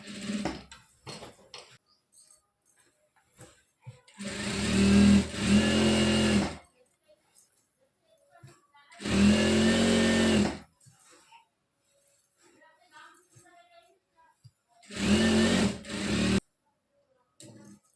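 A sewing machine stitches churidar pants, running in three separate bursts of rapid mechanical whirring with quiet pauses between them, close and fairly loud.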